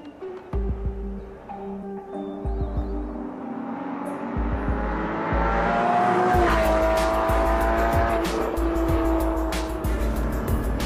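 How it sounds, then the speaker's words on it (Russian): A Porsche 718 Cayman S sports car drives hard, its engine note climbing steadily through the gears with loud, close revving and a brief tire chirp near the end. "Porsche 718 Cayman S. Лучше, чем всегда, но что со звуком?"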